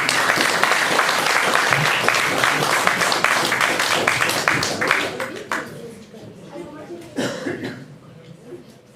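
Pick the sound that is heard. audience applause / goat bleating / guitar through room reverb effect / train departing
audience applause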